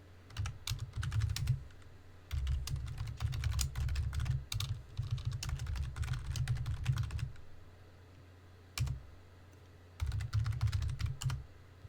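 Fingers typing a command on a computer keyboard into a Linux terminal, bursts of rapid key clicks separated by short pauses, close and crisp with a soft underlying thump.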